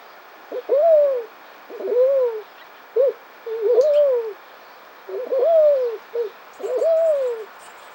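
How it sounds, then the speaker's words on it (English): Doves cooing nearby in a clear, regular series of soft mellow calls, each a short rising-falling phrase repeated about seven times with brief pauses between them, alone over a quiet background. "And there's one of the doves up there."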